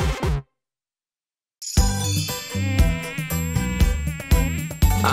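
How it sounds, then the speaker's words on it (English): A cartoon mosquito buzzes in a children's song, its insect-like drone rising after a brief silence over bright, jingly music with repeating chimes. "a mosquito. I bite and drink."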